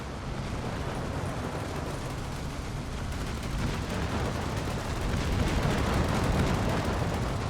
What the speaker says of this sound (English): A lot of machine guns, a lot of 50 caliber machine guns, and even heavier 20 caliber guns and whatnot engaging right now